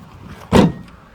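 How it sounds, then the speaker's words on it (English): A car tailgate is shut with one loud, solid thud that rings briefly and then goes quiet, heard close by with no voices. "shut the door"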